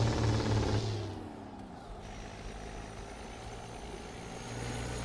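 A modded truck engine in American Truck Simulator idles with a low, steady rumble, loud at first, then dropping to a softer hum before swelling slightly again at the end, with no talk over it.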